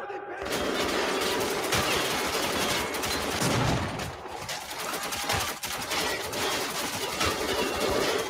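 Machine gun fire in the Metro 2033 video game: dense, sustained rapid bursts of automatic shots fill the whole clip loudly, with battle noise and voices mixed underneath.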